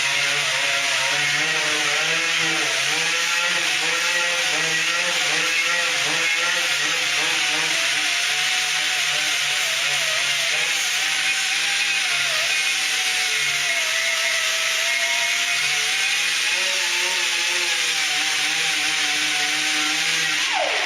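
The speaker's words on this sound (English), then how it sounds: "the grinder rotates clockwise, and you want that edge cutting down into the blade, just like when you're sharpening a pocket knife" A bench grinder sharpening a mulching mower blade makes a steady, loud, tonal whine, with grinding contact that wavers slightly in pitch throughout.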